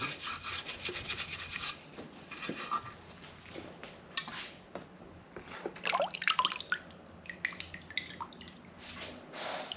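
Rust is sanded off the headlight of a Ford XC panel van, making faint, irregular scratchy rubbing strokes up close, sometimes quick and sometimes longer, with no voices.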